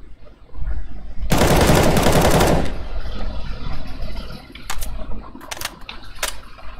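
CS:GO gunfire: one loud, close burst of rapid automatic fire lasting just over a second, followed by a quieter background with a few sharp, isolated clicks and shots.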